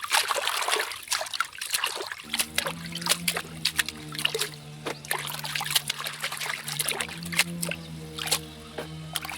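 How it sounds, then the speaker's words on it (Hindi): Leafy bhaji greens are washed by hand in water, giving a steady run of splashes, sloshes and trickling drips that start after a brief quiet moment and continue close and busy without any speech. "देखिए पहले धो लेती हूँ, उसके बाद फिर काटूंगी इसको।"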